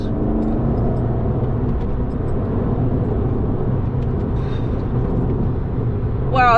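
A remapped Abarth fitted with a new intercooler pulls away from standstill, its engine giving a steady, loud low roar with a sustained rumble throughout, and a brief rising whine near the end.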